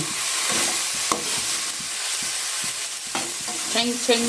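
A handful of mint leaves sautéing in a hot pan, with a loud steady sizzle and rhythmic scraping strokes of a spoon, close and continuous, and a brief voice near the end.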